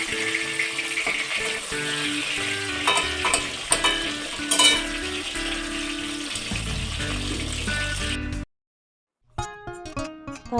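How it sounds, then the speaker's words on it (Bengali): Rohu (rui) fish pieces fry in hot oil for a Bengali-style curry, with a steady, loud sizzle, occasional pops and stirring, then a brief silence and a few sharp sputters. "তেলটা গরম হয়ে যাওয়ার পরে সব মাছগুলো দিয়ে আমি ভেজে নেব"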